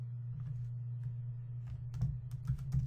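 Stock ticker symbols typed on a computer keyboard into a fund list field, sparse keystrokes at first, then a quicker burst of close, clicky taps over a steady low electrical hum, with no one talking.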